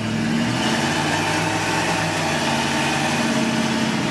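A 1972 Chevy C10 short-box pickup truck engine runs loud and close at steady partial throttle, a constant dense drone with a faint harmonic whine and no voices.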